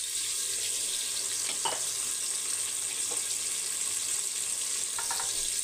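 Thinly sliced large onions sizzling steadily in a pan, a continuous soft hiss with a few faint stirring scrapes, no talk.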